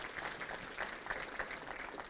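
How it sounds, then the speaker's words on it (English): A crowd at a Rotary Club awards and scholarships ceremony claps for a student, brief moderate applause in a room, a steady patter of many hands. "Can we clap for that?"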